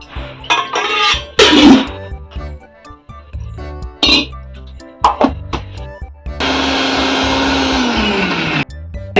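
A kitchen mixer grinder grinds roasted pomegranate peel in a steady, loud whirring burst of about two seconds as the motor winds down. Scattered clinks and handling knocks come before it.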